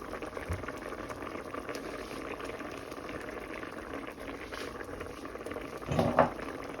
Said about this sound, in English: put it on a nice simmer while you make your jasmine rice to serve with